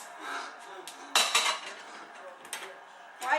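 Dishes, forks and plates clatter while being washed, with a run of sharp ceramic and metal clinks, a louder burst of knocks near the middle, and scattered lighter taps close by.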